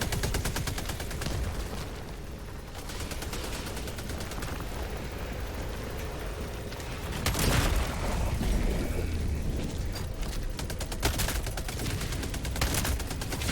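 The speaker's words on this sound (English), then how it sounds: "Grenade!" Grenade blasts and heavy gunfire roar through a Helldivers battle, a dense, continuous barrage with a louder burst of booms partway through and no pause.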